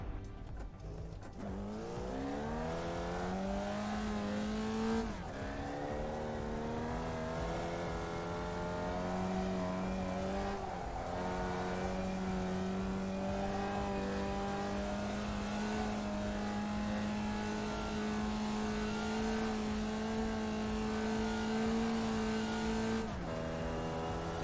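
A Formula V race car engine revs loudly and continuously in a racing sim, its tone climbing through the gears with brief drops at each shift, steady and close throughout with no talk.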